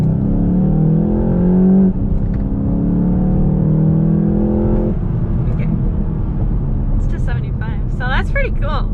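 VW Golf GTI MK7.5 accelerating hard from 20, heard from inside the cabin as a rising engine drone that climbs through a gear change and pulls again, with a voice speaking near the end.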